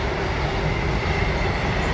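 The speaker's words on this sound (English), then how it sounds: "Why is it every time I get this phone out, a train comes?" A long freight train rolls past close by a fishing lake at Orchard Close Fishery, a loud, steady roar of wheels and wagons with a faint rhythmic clatter throughout.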